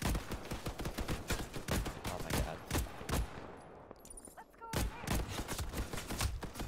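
Rapid bursts of enemy gunfire in a video game crackle almost continuously, with a short lull midway before the shooting resumes, loud and dense under faint talk.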